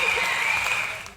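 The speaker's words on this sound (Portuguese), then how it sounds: "Mais palmas aí, Pix, por favor" Brief burst of applause during a Portuguese-language NFL draft analysis podcast, a steady dense patter of clapping that holds for about a second before tapering off.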